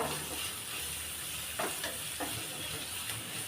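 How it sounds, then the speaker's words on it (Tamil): Steady sizzling of onions frying in hot oil, with a few soft stirring scrapes at intervals and no talking. "இது நல்லா வதக்கி விட்டுக்கலாம்"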